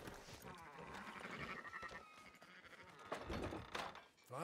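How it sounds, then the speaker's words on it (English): Sheep bleating in the video game Red Dead Redemption 2, several short, wavering bleats close by amid a flock, with a few thuds mixed in. "Fine sheep."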